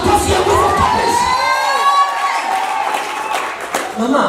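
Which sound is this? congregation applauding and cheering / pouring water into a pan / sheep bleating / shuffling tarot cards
congregation applauding and cheering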